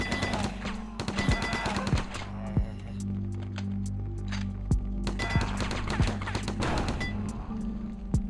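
Gunfire in the War Brokers battle royale video game, rapid automatic bursts and single shots repeating over a constant background drone, loud and close throughout.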